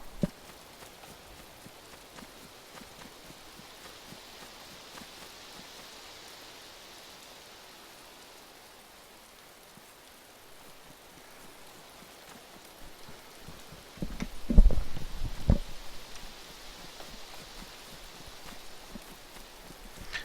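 Rain falling in the video game DayZ Standalone: a steady, even hiss of rainfall throughout, broken midway by a couple of brief, louder thumps.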